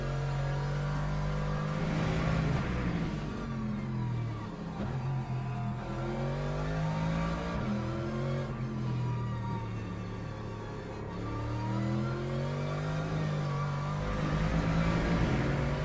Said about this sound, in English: That downshift feels very aggressive, bro.